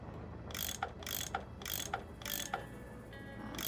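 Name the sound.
unscrewing bolts with a tool in Nancy Drew video game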